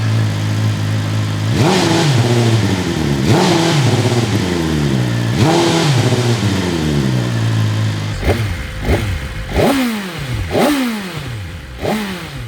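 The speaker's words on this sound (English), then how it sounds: "Let's give it some revs." 2025 BMW S1000RR engine revved repeatedly, several sharp throttle blips rising and falling over a steady idle, the later revs quicker and rougher, close and loud.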